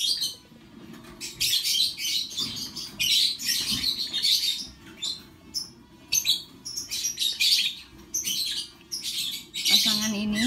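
A breeding pair of split PF lovebirds chirps close by, with bright, rapid tweets and squawks in dense bursts that keep going through the whole stretch, over a faint low background hum.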